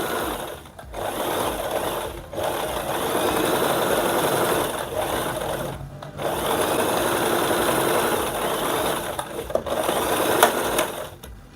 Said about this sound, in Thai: ก็พลิก แล้วก็เย็บตรงยาวลงมาเลยครับ ให้ถึงเอวแล้วก็ถึงปลายเสื้อเลย